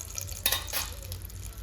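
Hot oil left from frying shrimp sizzles softly in a pan, a brief close crackle with a slight scrape partway through.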